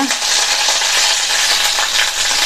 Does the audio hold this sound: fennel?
yes